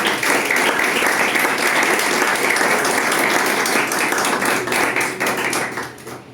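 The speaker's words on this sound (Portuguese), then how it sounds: "Aplauda ao Senhor Jesus" A church congregation applauds during a communion service, a loud, sustained burst of many hands clapping with sharp individual claps standing out, fading slightly at the end.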